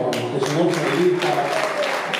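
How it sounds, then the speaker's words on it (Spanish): Applause from an audience at a live concert of guitar music, a short burst of clapping mixed with cheering voices and a tonal, speech-like layer throughout. "fuerte el aplauso para que se nos invita"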